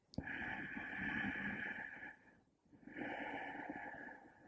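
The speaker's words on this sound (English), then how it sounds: "Some call this the ocean breath." Long, smooth ujjayi yoga breaths with a soft throaty hiss like distant surf, one stretching out, a short gap, then the next, quiet and close.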